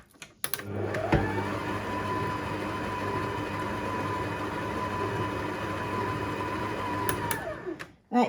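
Electric mixer beating gluten-free cheesecake filling in a bowl: a steady, loud motor whir with a constant pitch, running for several seconds before switching off.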